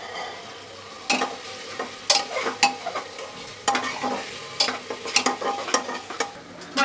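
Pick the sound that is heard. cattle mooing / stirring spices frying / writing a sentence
stirring spices frying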